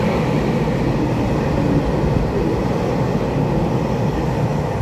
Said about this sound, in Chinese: 该不会是5235回送列车？